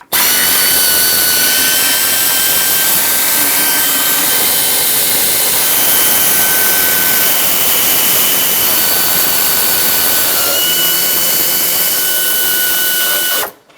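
A power tool whines loud and continuous while removing loosened intake manifold bolts on a 1999-2016 Ford E-350 with a 5.4L V8, the high whirring sustained close up for the whole stretch before stopping abruptly.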